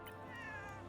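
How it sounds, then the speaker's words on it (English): A single short, faint cat meow, thin and slightly rising, heard during an online game session, with no talk over it. "Why did I just hear a cat?"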